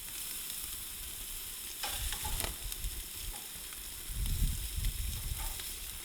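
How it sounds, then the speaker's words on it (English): Chicken pieces sear on a hot grill with a steady, close sizzle, swelling into louder bursts of crackle and spatter near the middle and again toward the end, with no talking. "We're gonna sear these chicken"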